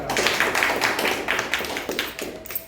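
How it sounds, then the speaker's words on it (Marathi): An audience claps in a quick, dense patter of overlapping hand claps that gradually thins out toward the end, welcoming a speaker at a Mahatma Phule Jayanti event. "सगळ्यांनी टाळ्या वाजून यांचं स्वागत"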